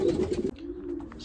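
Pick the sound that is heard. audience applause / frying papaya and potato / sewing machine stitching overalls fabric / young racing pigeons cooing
young racing pigeons cooing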